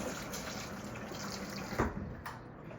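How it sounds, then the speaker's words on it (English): Cool tap water pours steadily into a pot of eggs, a continuous splashing rush that swells briefly near the end. "going to cover it with cool water about 2 inches above the eggs"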